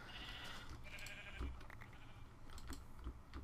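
Sheep bleating in Minecraft, several short nasal bleats in a snowy biome, fairly faint, over soft clicking and low background noise.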